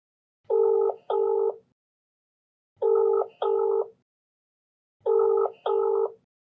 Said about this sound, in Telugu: సో ఒకసారి మీరు కాల్ చేస్తారండి.